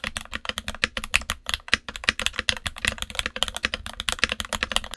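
Rapid, continuous clacking of keys on a mechanical keyboard fitted with Gateron Milky Yellow switches, close up and moderately loud, with uneven rhythm and no voices.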